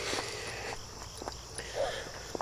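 Faint, continuous chirping of crickets in a quiet outdoor night, with a few soft footsteps or rustles close by.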